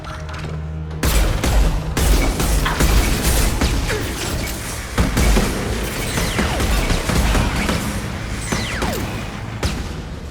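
Sustained turret fire in Mass Effect 2 rattles on almost without pause for about nine seconds after a quiet start, dense mechanical bursts and impacts layered with occasional booms, loud and close with no voices.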